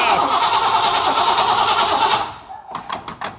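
A cold 409 V8 cranks and catches with a continuous rough roar for about two seconds, then drops to uneven lumpy firing pulses as it struggles to settle, loud and close.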